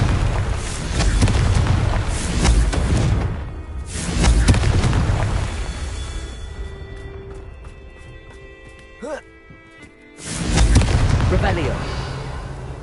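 Confringo blasting spell explosions in Hogwarts Legacy, heavy booming blasts with rumbling low end, one burst early and another near the end, with a ringing, whooshing lull between them and a voice calling out.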